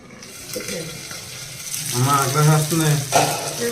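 Black fish pieces frying in a pan, a moderate steady sizzle heard close, with a person talking over it in the second half.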